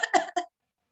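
Three quick coughs covered with a hand, close and fairly loud, coming in a short stuttered burst before falling silent.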